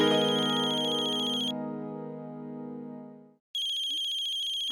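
A phone ringtone plays loudly and alone: a bright electronic melody rings for a second and a half, drops to a sustained lower tone, pauses briefly, then starts again near the end.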